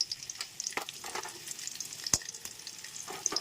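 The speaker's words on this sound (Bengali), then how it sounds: "এবার কাঁকড়াগুলোকে ভেজে নেবো" Crabs fry in mustard oil with a bright, crackling sizzle, scattered sharp pops and occasional stirring scrapes over a low steady hiss, close and fairly quiet, no speech.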